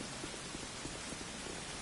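Rain in Dark Souls 2 as a soft, even hiss of falling drops, quiet and continuous with faint patters and no talk.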